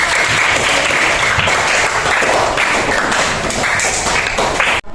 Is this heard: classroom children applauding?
yes